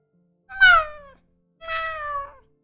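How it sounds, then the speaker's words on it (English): A cat meowing outdoors, drawn by the smell of wet food: two clear, drawn-out meows about a second apart, close and distinct against silence. "The cat is meowing outside"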